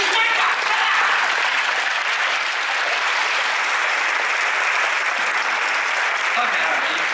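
An audience claps steadily and loudly for several seconds as a dense, continuous round of applause, with crowd noise mixed in and no clear speech on top.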